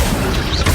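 A brief, loud, booming magical burst comes from the Accio spell being cast in Hogwarts Legacy, with a dense rumble and a short rising swish.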